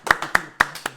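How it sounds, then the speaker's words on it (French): A few people clapping for a project pitch on a French game show, four or five distinct sharp claps in a slow uneven rhythm, close and loud, without a full crowd behind them. "Oh, on peut applaudir pour Montreuil, s'il vous plaît."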